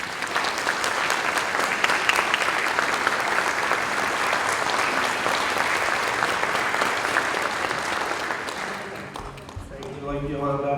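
Audience applause at the opening session of a workforce summit, a dense, steady burst of many hands clapping for about nine seconds before fading out as a voice begins to speak.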